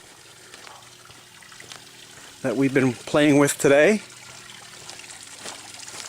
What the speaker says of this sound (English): And we have a water feature